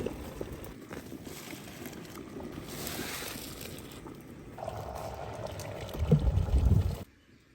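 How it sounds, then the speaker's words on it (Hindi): Cooked rice for a large village-style deggi chicken biryani tipped into a strainer to drain, a long steady wash of pouring, splashing water that swells louder and heavier near the end before stopping abruptly. "अभी इसको हम एक छान में निकाल लेंगे ताकि इसका पानी मुकम्मल तौर पर निकल जाए"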